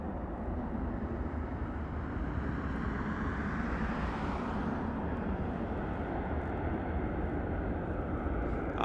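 An airliner departs from Las Vegas Harry Reid International Airport, a broad steady engine roar heard from a distance, swelling slightly midway before holding at a constant level.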